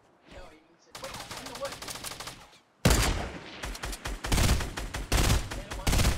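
Gunfire in a Fortnite match, rapid bursts of shots crackling close and loud, starting after a quiet moment and then coming in repeated volleys, with people talking over them.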